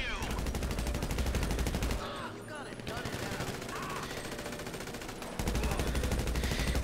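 Heavy automatic gunfire from a Criminal Mastermind 3 heist shootout in a video game, loud rapid rattling bursts with a brief lull in the middle before the shooting resumes, while voices talk underneath.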